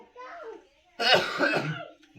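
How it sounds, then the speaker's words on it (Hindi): A man coughs in a loud, harsh burst of several rough hacks after a stretch of quieter voice, with a short trailing sound at the end. "सॉरी हमें खांसी हो रही है"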